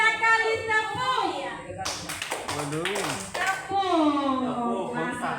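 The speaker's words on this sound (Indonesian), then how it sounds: "3 kali tepuk." A group claps hands in a short burst of sharp taps between stretches of voices, with talk and singsong speech around it in a class-style setting.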